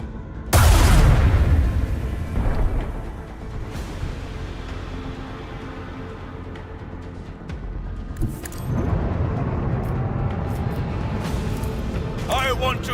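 Macro cannons fire in Rogue Trader Warhammer 40k, opening with a loud booming blast, followed by rumbling and further heavy shots beneath ongoing speech.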